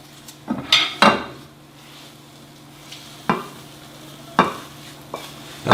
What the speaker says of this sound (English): I'm going to transfer my eggs before they're overdone to the pan here